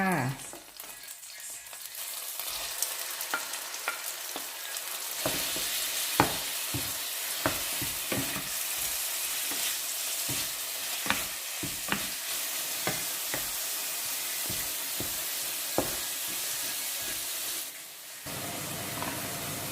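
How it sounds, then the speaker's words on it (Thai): Minced pork stir-fried with crushed garlic and chilies in a little oil, a steady close sizzle punctuated by frequent sharp scrapes and clinks of a spatula on the pan, easing briefly near the end. "ผัดไปสักพักหนึ่งให้หอมแล้วก็ใส่หมูสับไปเลยจ้า"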